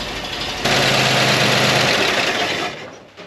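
A Harley Earl Corvette prototype engine, restored after being unseen since 1954, idles smoothly and steadily at close range, its even hum swelling briefly before easing off.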